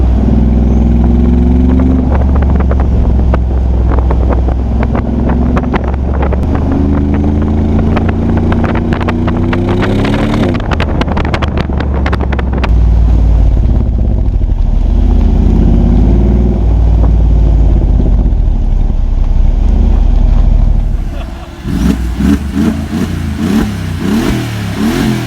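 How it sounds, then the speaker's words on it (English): A Mercedes-Benz G63 AMG with a biturbo V8 accelerates hard, its loud, sustained engine roar climbing in pitch through repeated gear pulls before settling to a steadier, rougher drone near the end. "the V8 sound is just ridiculous"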